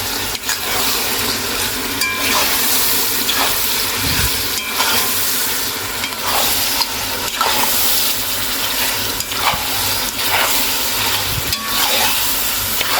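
About one and a half kilograms of liver fry in a pan, sizzling steadily while a utensil stirs and scrapes, with repeated clatters against the pan's sides and a faint splash of water.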